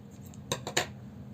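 Scissors cutting crochet yarn tails, three quick sharp snips close up in a quiet room.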